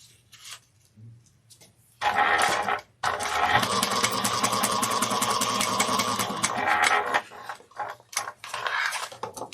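Sewing machine stitching a seam on a handbag, a steady fast mechanical whir running for several seconds after a brief start and stop, with soft handling sounds before and after.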